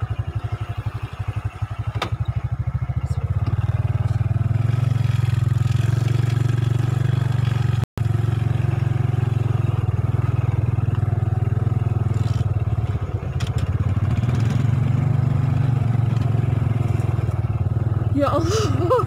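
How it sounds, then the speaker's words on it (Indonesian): A motorcycle engine drones steadily at close range, with rattling and scraping from a rough, rocky mountain road in Enrekang, Indonesia; people talk over the engine noise. "Jadi sedang ngos-ngosan bawa motor."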